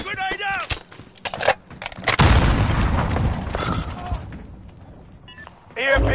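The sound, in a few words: grenade explosion in video game Modern Warfare beta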